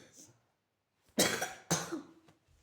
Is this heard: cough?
yes